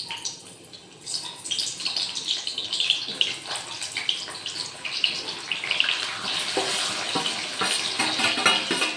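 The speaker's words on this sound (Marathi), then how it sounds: "आता तेल गरम झालं आहे छान असं कांदे टाकूया" Onions dropped into hot oil in a home kitchen pan sizzle and crackle steadily, a dense frying hiss with occasional pops and stirring scrapes, close and continuous throughout.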